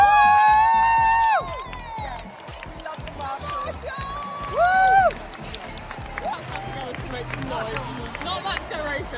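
A crowd at a Formula E race cheers and whoops for the marshals, with shouted voices and cheers rising over a noisy trackside background. People speak and call out throughout.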